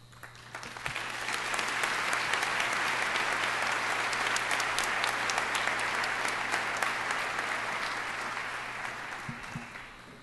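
Commencement crowd applauding the graduating class of 2010 at the P.I. Reed School of Journalism, West Virginia University, a broad sustained ovation swelling up and tapering off over ten seconds in a large hall, with no speech.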